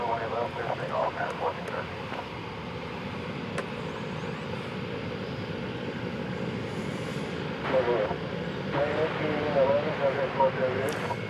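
Jet airliner engine roar at DFW Airport as a plane lands and takes off on runway 18 left, a steady loud wash rising slightly toward the end, with radio chatter and talk underneath.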